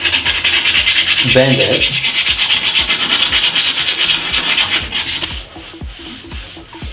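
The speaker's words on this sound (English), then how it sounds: "we're just going to sand it down, making sure not to" A keyboard part is hand-sanded in a bathroom with steady, rhythmic rubbing strokes, loud and close, then a quieter stretch near the end. A voice speaks briefly.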